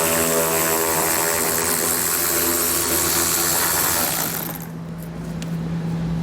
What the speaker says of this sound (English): So I have a 10mm bolt here. We'll grab our socket and get that removed.